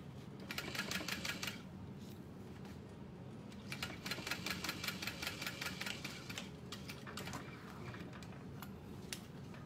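A sewing machine stitches right beside a thick piping cord on a satchel bag, sounding as close rhythmic mechanical clatter in three runs separated by short pauses.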